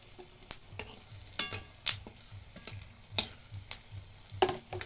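Whole garam masala and panch phoron with dried red chillies fry in hot oil in a pan, a close, crackly sizzle broken by sharp pops and stirring scrapes at an irregular rhythm, with no voices.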